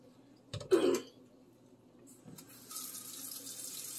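Water splashes briefly with a knock, then after a pause settles into a steady hissing flow, faint and close, as water runs through a Brita filter.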